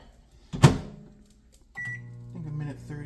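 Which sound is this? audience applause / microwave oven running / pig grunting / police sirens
microwave oven running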